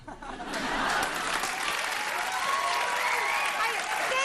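A studio audience at a television talk show claps steadily and warmly, with a few chuckles mixed in. The applause swells after a brief start and holds to the end while a voice talks over it.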